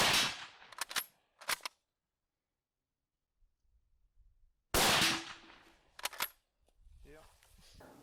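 A MAS 36 bolt-action rifle fires two sharp, loud shots, one at the start and one near the middle, each followed by short metallic clatter, with quiet gaps and faint background noise between.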